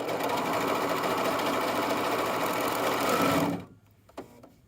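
Serger sewing machine stitching fabric runs steadily with a loud, dense mechanical whir for over three seconds, then stops abruptly, followed by a faint click.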